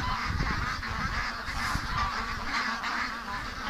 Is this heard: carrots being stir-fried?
no